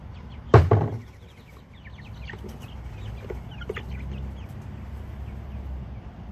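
Farm chickens being fed breakfast, with one loud knock or thump near the start followed by soft, scattered clucks and low chatter from the flock, fairly close.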